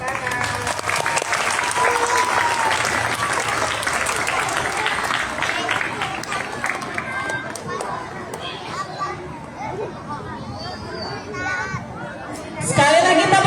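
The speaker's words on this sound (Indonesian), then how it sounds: "Sekali lagi tepuk tangan yang meriah untuk Ananda Safa" An audience of children at a national children's day event at a primary school claps in a loud, dense, continuous burst of applause mixed with chatter and children's voices, and the clapping rises again briefly at the end.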